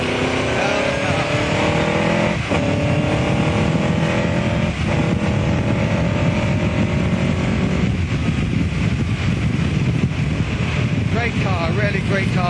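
A Cooper Formula One racing car's engine roars loud and steady from onboard at Donington Park, its pitch rising and falling through gear changes under heavy wind buffeting, with the driver talking over it.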